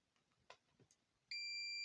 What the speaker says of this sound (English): when I connect the two probes, the multimeter is beeping